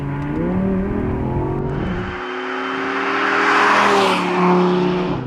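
A 2017 Audi R8 V10 Plus's high-revving engine roars loudly in the mountains, shifting pitch as it accelerates and sweeps past, its howl building then easing slightly near the end.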